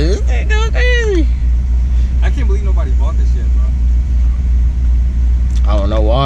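A BMW M6 or Maserati GranTurismo engine holds a loud, deep, continuous rumble at close range while voices talk and exclaim over it.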